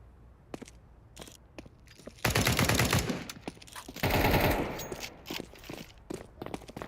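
Automatic weapon fire in a Counter-Strike 2 esports match, two dense sustained bursts of rapid gunshots with scattered single shots and footsteps between, fairly close and loud, no talk.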